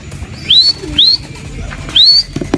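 Outdoors, a racing pigeon on its return flight gives three thin, rising chirped calls that are evenly spaced and fairly close, against a steady low background hum.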